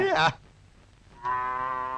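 A cow lets out a strong, close moo, a brief vocal burst at first followed by a sustained droning low after a pause, in a Tamil film scene.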